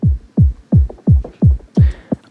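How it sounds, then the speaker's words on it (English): Neurofunk build-up run through a low-pass filter: six deep, muffled bass hits pulse in a steady rhythm, loud and close, with the highs rolled off. "on the build-up where I have that low-pass filter going on, as you can hear,"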